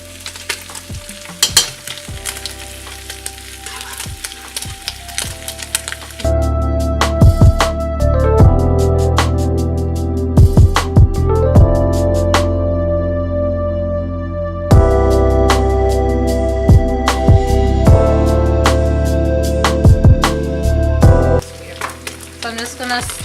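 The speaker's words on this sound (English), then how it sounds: "So I'm just gonna stir this in." Kidney beans being stirred into frying chili in a pot, steady loud sizzling with repeated scraping spoon strokes and clanks, close and alone without talk.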